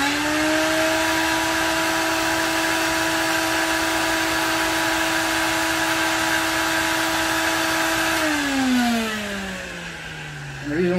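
A cordless vacuum cleaner running on battery power from a solar power system whirs steadily with a strong tonal hum, then its pitch slides down as the motor winds down near the end.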